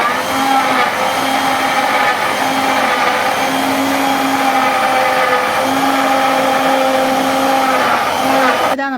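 An electric blender whirs at full speed, mixing juice with honey, milk and cold water: a loud, steady motor drone with a faint pulsing pitch, running unbroken for the whole stretch.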